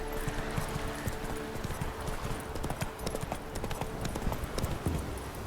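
Roach, a horse in the video game The Witcher 3, gallops at a steady rhythm, and the hoofbeats stay loud and close throughout with no talking.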